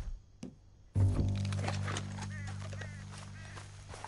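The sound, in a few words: horse stopping as rider dismounts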